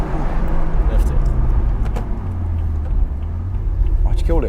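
A BMW M235i driven along back roads with its exhaust valves unplugged and held open gives a low, steady engine drone and road rumble throughout, with voices chatting inside the car over it.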